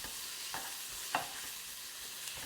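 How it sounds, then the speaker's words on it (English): Beef and carrot stir-fried in a wok, a steady sizzling hiss running throughout with a few soft scraping stirs of the spatula at intervals, close and moderately loud. "I'm just going to sear off that beef on the bottom"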